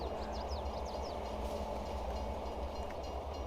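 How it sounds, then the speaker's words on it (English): A train in Farming Simulator 22 rumbles past in a steady low drone with rail clatter and a few high whistling squeals early on, loud and continuous with no talking. "Oh, train."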